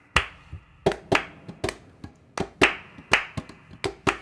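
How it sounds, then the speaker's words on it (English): A group clapping hands in loose, sharp bursts, about a dozen crisp claps spread unevenly over four seconds, fairly close and with no talking. "A couple claps, just claps."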